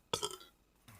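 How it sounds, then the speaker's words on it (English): A single short, loud burp from a man, followed by a brief quieter tail of breath, heard alone in a quiet room. "I'm going to burp."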